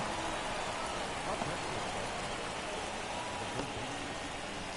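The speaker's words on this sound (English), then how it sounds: "4th of July in central Minnesota is getting rained on." Rain falls steadily on the Fourth of July in central Minnesota, a constant hiss of drops with occasional faint taps, no voices over it.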